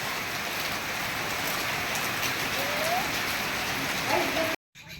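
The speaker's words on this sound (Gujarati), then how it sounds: "2 દીમાં પાછો થોડું થોડું પાણી પડે છે હજી" Light village rain patters in a steady, even hiss close by, continuous until it cuts off abruptly near the end.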